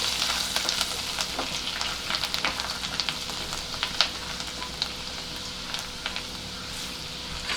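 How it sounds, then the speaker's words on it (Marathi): Garlic sautés in a pan until reddish while cooking burnt garlic mushroom rice, with a constant light sizzle and scattered crisp pops. No speech is heard. "हे पण आपल्याला छान लालसर होईपर्यंत परतून घ्यायचं"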